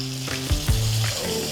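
Honey butter sizzles and fries steadily in a hot cast iron pan, candying and glazing, with a constant crackling hiss and a couple of soft scraping stirs partway through.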